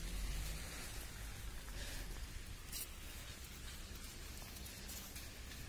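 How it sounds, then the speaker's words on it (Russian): Steady rain falling outdoors, a dense continuous hiss of drops on surfaces that stays even and fairly loud throughout, with no voices. "На улице идет дождь"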